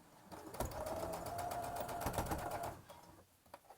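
A sewing machine runs a straight seam around cloth pieces for a sewn fabric Easter bunny's overalls, a steady close whir lasting about two seconds with a faint tapping before and after.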